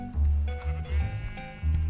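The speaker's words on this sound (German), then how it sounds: "Oh, hallo Schaf." A sheep in a Minecraft-style video game bleats several times in quick succession, short wavering baa sounds that are close and distinct, with background game music.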